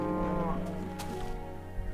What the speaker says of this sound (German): Und die Kühe könnten darin gespült werden.